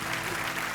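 A brief burst of studio audience applause on a comedy talk show, dense and continuous clapping for a guest named Yulia, heard for under a second.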